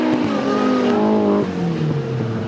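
A drifting race car at a 2008 Formula Drift event in Atlanta, engine howling as it accelerates uphill, its pitch sliding downward while tires squeal, loud and close throughout.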